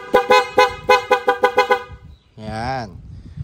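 Nine short, rapid horn beeps in a quick rhythmic burst, followed by one longer wavering horn note, close and loud, from an aftermarket horn on a Yamaha Mio Sporty motorcycle.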